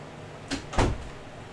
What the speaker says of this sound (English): Close the bedroom door so I don't set off my smoke alarm.